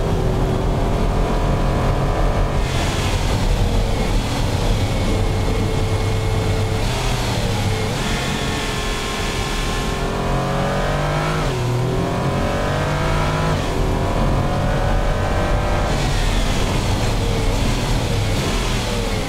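Car engine in the video game Automation, a luxury all-wheel-drive race car driving a test course: loud, continuous engine drone with repeated revving climbs and drops as it shifts through gears, close and alone.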